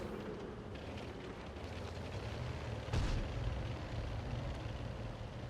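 In World of Tanks, a single tank gun shot booms out midway as a sharp, heavy blast over a constant low engine rumble, with no talking.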